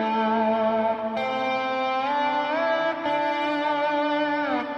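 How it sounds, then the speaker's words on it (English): Guitar notes plucked with a pick through an amp modeler with echo and distortion ring out loud and sustained, with a few distinct picked attacks about a second apart, played alone. "So like if I played it with a pick, it would sound like this."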